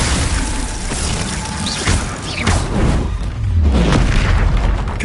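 A Glacius freezing spell in Hogwarts Legacy combat brings loud booms, crackling shatters and mechanical rattles in overlapping bursts, growing heavier toward the end, with no talking.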